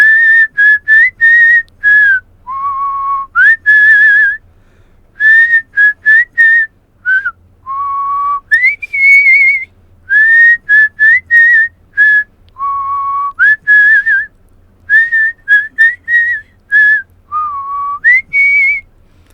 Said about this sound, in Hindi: जब मुंह से हम सीटी बजाते हैं तो खाली वो सीटी बज रही होती है